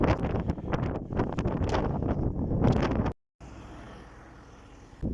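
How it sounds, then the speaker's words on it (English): Strong wind buffets the microphone in a loud, continuous roar, briefly cutting out before a quieter gusty rumble resumes. "It's still just like ridiculously bloody windy."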